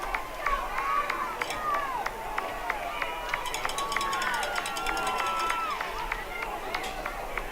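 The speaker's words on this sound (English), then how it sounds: "crowd is not happy" Restless, unhappy crowd at a high school football game in the fourth quarter, a steady stadium murmur with whistle-like calls and sharp scattered claps or shouts, heard at a moderate distance.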